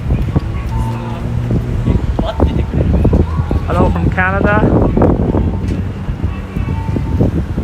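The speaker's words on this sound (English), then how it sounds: "it's very windy right now." Strong outdoor wind buffets the microphone on a town street in Akihabara, Tokyo, a steady low roar running under someone talking close to the mic for the whole stretch.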